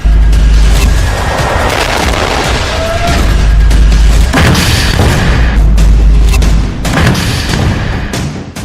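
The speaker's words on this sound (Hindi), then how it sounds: "हिजबुल्लाह इजराइल के टैंकों को महज 100 से 150 मीटर की दूरी से एंटी टैंक मिसाइल से और रॉकेट से निशाना बना रहा है।" Anti-tank missile and rocket attack on Israeli tanks by Hezbollah from close range, heavy booming blasts and rumbling over sustained loud battlefield noise, with repeated deep impacts.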